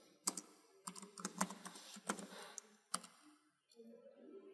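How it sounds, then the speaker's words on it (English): Keys tapped on a computer keyboard in short irregular bursts of sharp clicks, close and fairly quiet, with a brief pause and a faint murmur of a voice near the end. "So we write here Smith."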